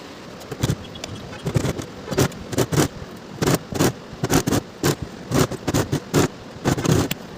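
A sewing machine stitches a half-inch seam around a kurti neckline, close and fairly loud, running in short irregular bursts of rapid whirring with brief pauses between.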